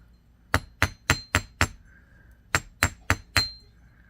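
Sharp metallic taps from a nylon hammer striking a steel block while flattening wire earrings, a quick run of five hits, a pause, then four more, close and crisp.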